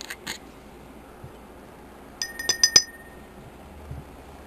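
Glass bottles clink in a quick cluster of four or five sharp, ringing taps while homemade tanning oil is bottled, with a couple of softer knocks before it and a quiet background.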